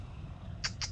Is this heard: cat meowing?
yes